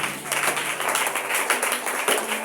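A church congregation applauding, dense sustained clapping from many hands filling the room for a couple of seconds, loud and close with no break.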